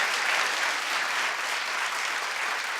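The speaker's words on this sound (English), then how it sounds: "we're clapping" A studio audience on a daytime talk show claps steadily and loudly throughout, a dense continuous applause with no break.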